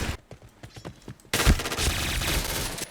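Rapid bursts of gunfire from the Point Blank shooter game, sudden and loud after a quieter stretch of lighter shots, continuing as a dense, sustained volley.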